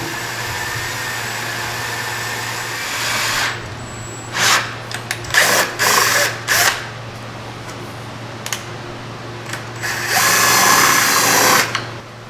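A power drill runs in short bursts with pauses between, a whining motor held at low speed with light pressure while it bores a hole, with a steady hum beneath.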